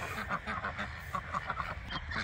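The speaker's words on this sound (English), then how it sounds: "there was a duck in there" Duck on a farm quacking from inside a box in an enclosure, a run of fairly faint, rough calls repeating irregularly over low background noise.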